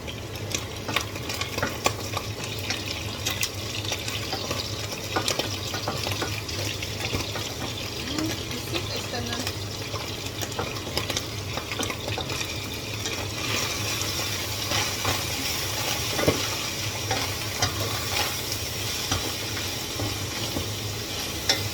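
Onion sautéed in a pan while making spaghetti carbonara, a continuous crackling sizzle with steady stirring and scraping throughout, fairly close and busy, with no voices.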